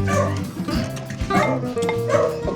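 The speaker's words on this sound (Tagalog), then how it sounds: "Pagpasensyahan nyo na guys yung mga aso namin." Several pet dogs bark and yip repeatedly in a backyard vegetable garden, the barks loud and close, overlapping in an excited chorus with occasional whimpering.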